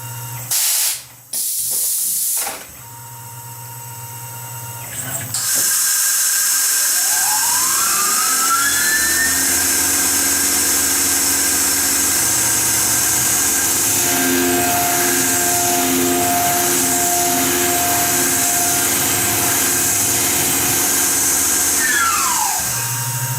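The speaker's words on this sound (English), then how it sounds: "high-speed machining is cool, and spiral toolpaths like that are very cool, and they leave an awesome surface finish" A CNC machine performs high-speed machining along a spiral toolpath on a knife part, a loud sustained hissing whine with shifting pitch and flying chips, preceded by brief clicks and a short burst of spindle noise.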